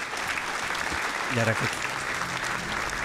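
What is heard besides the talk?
applause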